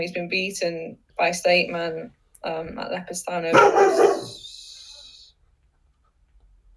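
A dog barks loudly indoors, a short burst of sharp barks cutting across someone talking and then fading into quiet.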